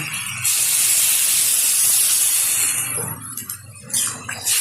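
Water poured into a hot pan of jute leaves with kaanthal seeds sets off a loud, sustained sizzle and hiss for several seconds, fading into uneven crackles and softer bubbling near the end.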